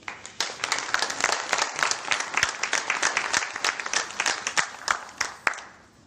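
Sustained applause from an audience at a business meeting, dense overlapping claps rising quickly and holding steady for several seconds before tapering off near the end.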